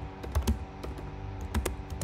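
Someone types a prompt on a computer keyboard nearby, a quick, uneven run of soft key clicks and taps that comes in small bursts with no voice over it.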